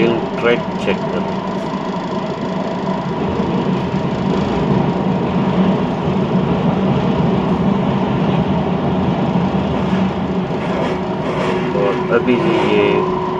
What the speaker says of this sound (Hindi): ट्रेन अंडरग्राउंड होने वाली है, अभी जाएगी बिल्कुल ज़मीन के नीचे।